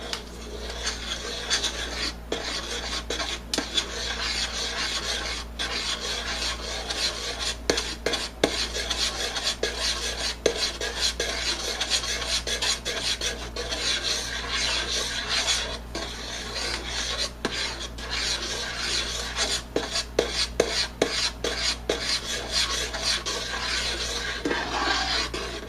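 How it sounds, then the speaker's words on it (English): Pectin being stirred into black raspberry jam in a pot, a spoon repeatedly scraping and clinking against the pot in an uneven, continuous rhythm, close and fairly quiet. "I'm stirring it as I'm putting a little bit in at a time and incorporating it."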